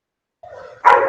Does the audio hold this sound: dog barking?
yes